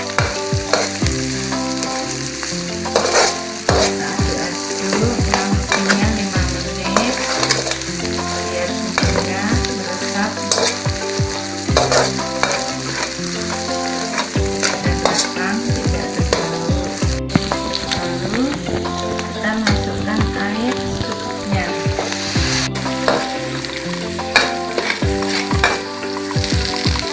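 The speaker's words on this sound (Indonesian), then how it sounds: "setelah bumbu mendidih seperti ini" Loud, continuous sizzling and bubbling of spice broth boiling in a hot pan for Javanese opor ayam, with occasional stirring clatter throughout.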